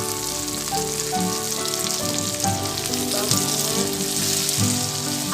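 Chopped onion and curry leaves frying in hot oil make a loud, dense crackling sizzle that stays steady, with a faint tonal hum underneath.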